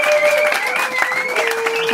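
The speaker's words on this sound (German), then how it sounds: "Applaus!" An audience at a German open-stage cabaret evening bursts into brief, dense clapping, with sustained tones ringing through the applause.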